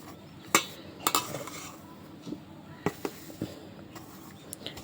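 A spoon mixes a turmeric mixture in a bowl, making a handful of sharp, irregular metallic clinks and taps separated by quiet gaps.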